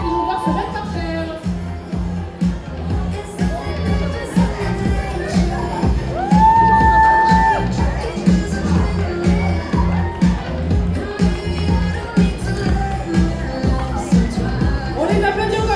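An audience at a roleplay contest and awards ceremony at the Kamo Con 2026 convention cheers and applauds the participants, a dense, sustained roar of clapping and shouting with a brief whoop or whistle midway.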